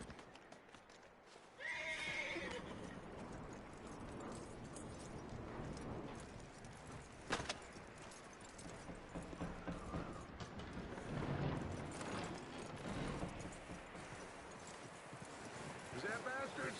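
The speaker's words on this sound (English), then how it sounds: "That looks like a decent horse." A horse neighs loudly and its hooves clip-clop nearby, with a sharp whinny partway through and steady hoofbeats under voices talking.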